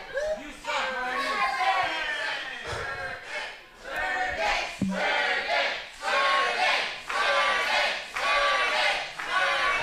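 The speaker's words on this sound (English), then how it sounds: "Crowd loves them some Sergey." Arena crowd at a Rocky Mountain Pro wrestling show cheering and yelling continuously, loud and dense throughout, with children's and individual voices standing out in the roar.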